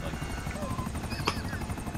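An aircraft engine in a video game drones steadily and close, its rhythmic throb running unbroken beneath people talking.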